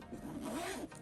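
Zipper of a black Coach signature canvas wheeled carry-on suitcase with four spinner wheels, one continuous close zip pull lasting about a second, loud and alone.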